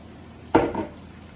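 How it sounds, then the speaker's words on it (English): Vegetables for shepherd's pie tumble into a pan in one short clattering burst with a brief scrape of stirring just after, close and otherwise quiet. "Now we're just gonna add our veggies in, just like so."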